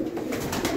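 Teddy pigeons coo softly inside loft boxes, a brief, low, throaty murmur at close range with a faint airy hiss behind it.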